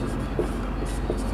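Pen or chalk scratches out a quadratic equation in short strokes, a few brief scrapes over a steady low background hum.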